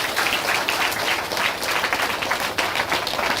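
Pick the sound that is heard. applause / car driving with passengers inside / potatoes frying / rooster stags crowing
applause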